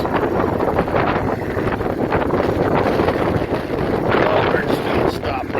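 Strong gusty wind buffets the microphone with a constant loud rumble and rushing noise, rising and falling in bursts.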